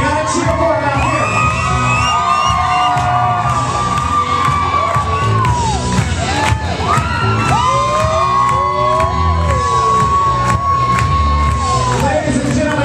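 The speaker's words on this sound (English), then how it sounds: "Folks, you gotta cheer for them." Wedding reception crowd cheering, whooping and shouting loudly and continuously, with high whistles and yells rising over the steady roar of the room.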